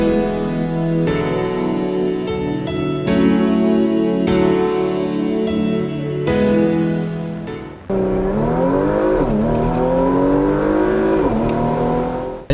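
Tuned 2020 Porsche Macan S with a single turbo and ECU flash accelerates hard, its engine note loud and sustained with rising revs, a brief gear change near the end, and no talk.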